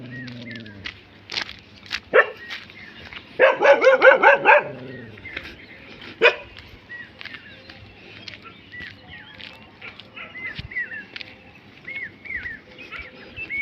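Dogs at a rural farm settlement bark in several short bursts, with the loudest cluster midway, over a quiet outdoor background with faint birdsong.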